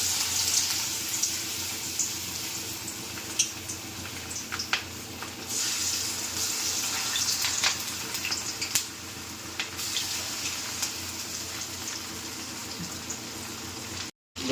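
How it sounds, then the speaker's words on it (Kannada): Food pieces are dropped one at a time into hot oil, giving a continuous fizzing, bubbling sizzle with small crackles and spits, fairly quiet and with no talking. "ಎಣ್ಣೆಗೆ ಒಂದೊಂದೇ ನೀಟಾಗಿ ಬಿಟ್ಕೊಳ್ಳೋಣ ನೋಡಿ."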